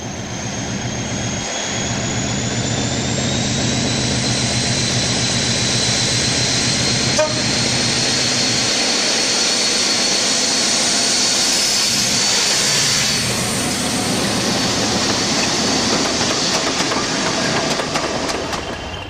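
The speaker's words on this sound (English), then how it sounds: "Grid 6 and Scottish Sulzer D5410 paired at Northwood on the Severn Valley in September 2000" A Class 56 and Scottish Sulzer D5410 diesel locomotive running paired at Northwood on the Severn Valley railway, a loud, sustained diesel engine roar with a high whining tone, building and holding as they pass close by.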